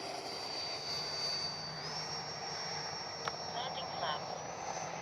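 A Freewing F/A-18C 90mm RC jet flies overhead in the evening with its landing gear lowered. The ducted-fan whine is steady and rises slightly, heard faintly at a distance.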